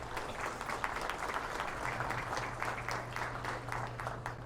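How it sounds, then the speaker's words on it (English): Audience applause at a Highland cattle junior showmanship event, a steady, dense wash of many hands clapping continuously with a low hum underneath. "let's give a round of applause to these ladies out here."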